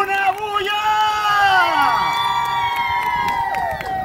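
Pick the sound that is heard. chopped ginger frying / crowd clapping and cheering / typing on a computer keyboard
crowd clapping and cheering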